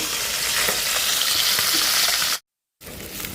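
Rohu fish frying in oil in a wok, a loud, close, continuous sizzle that cuts out briefly to silence before resuming.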